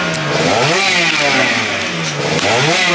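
A classic superbike engine runs hard on track, loud and continuous, with rising and falling revs through gear changes heard up close, with no voices.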